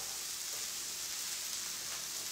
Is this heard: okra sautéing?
yes